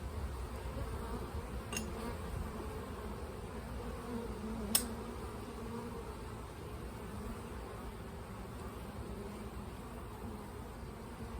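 Honeybees hum steadily during a hive inspection, a soft continuous drone of many insects at close range with a faint brief tap partway through and no voices.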